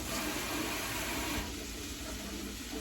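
Broccoli pieces rinsed under a running kitchen tap, a steady close rush of water that stays loud for the first half, then eases to a lighter, softer flow.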